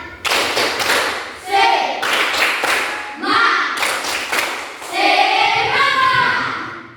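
Schoolchildren standing in a classroom perform the Indonesian 'tepuk semangat' spirit clap, a rhythmic pattern of sharp claps mixed with group chanting and voices, repeated in several loud phrases.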